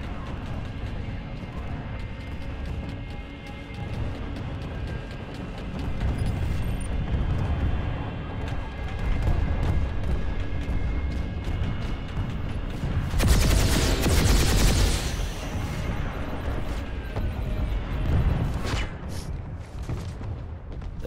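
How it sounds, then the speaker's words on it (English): Gunfire in Planetside 2 over a dense, rumbling battlefield din, with a louder burst of shots and blasts swelling in the middle and scattered reports around it. "Oh, I'm getting shot at."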